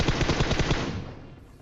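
A rapid burst of automatic gunfire in the video game PUBG Mobile: about eight loud, evenly spaced shots in quick succession, then a short fading echo.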